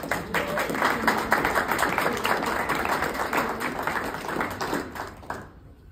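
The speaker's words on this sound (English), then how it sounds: "Clap." Audience applause at a Mount Holly Township council meeting in New Jersey, greeting a proclamation: dense, steady clapping from a room of people lasting about five seconds before cutting off sharply.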